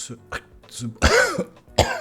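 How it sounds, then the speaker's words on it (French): A person coughs several times in short, harsh bursts, close by, with a couple of throat-clearing sounds mixed in. "Je suis désolé si je tousse un petit peu"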